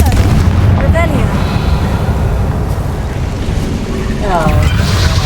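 Confringo blasting spell explosions in the Hogwarts Legacy video game: loud, sustained rumbling blasts with swooping magical whooshes layered on top, continuous for several seconds.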